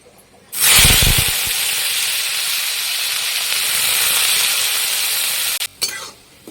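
Cut bitter gourd pieces hit hot oil in a pan with a sudden loud burst of sizzling and hissing, a few clatters at the start, then a steady frying hiss that holds for several seconds before cutting out.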